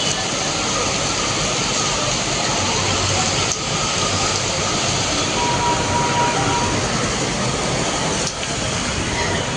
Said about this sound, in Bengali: তারপর দেখছি এরকম বৃষ্টি হচ্ছে।